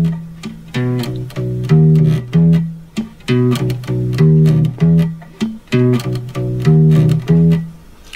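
Bass guitar plays the closing vamp of a song, a punchy, repeating funky riff of short plucked notes with rhythmic gaps, loud and close with no talking.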